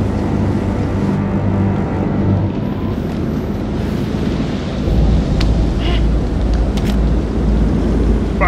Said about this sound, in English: Find out how long the storm is gonna last.